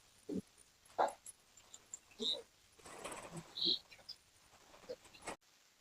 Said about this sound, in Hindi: ये देखो कितने सारे कुत्ते हैं